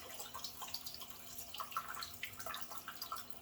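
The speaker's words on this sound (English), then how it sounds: "let's get that emptying the sink so I can rinse off my razor" Water drains and trickles out of a bathroom sink after shaving with a Rapira razor, a soft, steady wash with scattered light drips, fairly faint and with no one talking.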